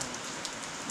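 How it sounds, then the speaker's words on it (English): Rain in the mountains of Kashmir, a dense steady hiss of falling drops with faint scattered taps, close and continuous. "the rains have officially begun in the mountains"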